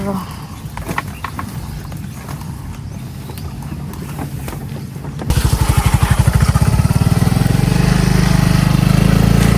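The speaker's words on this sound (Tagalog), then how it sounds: "pinapasok po niya itong motor" A motorcycle is wheeled in and started, its engine suddenly rising to a loud, steady idle close by after a stretch of quieter ambient noise with scattered knocks.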